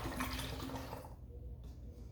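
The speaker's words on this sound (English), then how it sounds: "You're going to open both of the bottles up and pour them completely into your container." Liquid glugs and splashes as it is poured from a bottle into a pitcher, a close, bubbly stream that stops abruptly partway through, leaving a quieter background.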